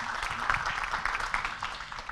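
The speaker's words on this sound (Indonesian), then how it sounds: "tepuk tangan dulu buat kita semuanya" Audience applause at an Indonesian campus orientation event (PBAK) at IAIN Ponorogo, a steady wash of clapping from a crowd, moderately distant and sustained through the whole stretch.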